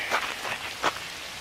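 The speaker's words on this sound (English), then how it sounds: "It's cold. It's raining." Rain falling outdoors on a cold day at a camp with a shelter, soft patters and a few distinct drops landing on a surface, faint and brief with no voices.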